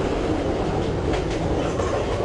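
The Parabat Express, a Bangladesh train on the Sylhet route, rumbles steadily along the rails with a loud, even roar and faint clickety-clack, heard close from inside the carriage.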